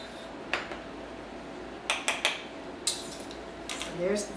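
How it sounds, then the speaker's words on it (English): Tablespoons of flour measured into a bowl for a sugar cream pie, several metallic clinks and taps of a spoon against the bowl, with a brief voice near the end. "So I'm going to measure those and put them in the bowl."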